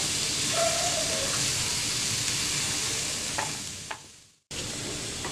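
Cucumber pieces roasting in a pan give a steady, close sizzle with light stirring scrapes and a few faint clicks, then a brief drop to silence before the frying resumes.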